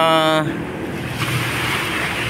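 Sea waves of Manila Bay at Dolomite Beach wash in as a steady, broad roar with wind noise on the microphone, continuous and fairly loud after a brief tonal sound at the start.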